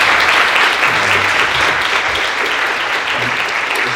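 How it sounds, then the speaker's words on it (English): Audience at an art talk with street artist Ernest Zacharevic and photographer Martha Cooper applauds steadily, a loud, dense wash of clapping that holds evenly throughout. "Let's give a round of applause to Ernest and Michael."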